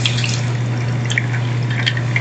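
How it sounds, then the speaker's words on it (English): Liquid pouring into a smoked glass as a cocktail is served at a holiday party, a steady continuous trickle with a low background hum throughout. "And then we pour this into our smoked glass."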